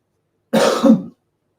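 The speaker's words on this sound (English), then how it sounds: "Sorry, I need to cough." A single close, rough throat clearing that breaks into a short cough, lasting about half a second before silence.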